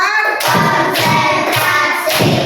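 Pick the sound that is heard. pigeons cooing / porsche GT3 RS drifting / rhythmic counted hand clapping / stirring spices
rhythmic counted hand clapping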